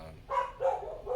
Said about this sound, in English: Sorry for my dog; she's dumb.